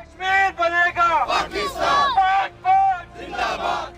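Rally crowd chanting slogans in unison, loud and close, in rhythmic bursts of shouted phrases with short pauses between them, at a street march setting out from a district council hall.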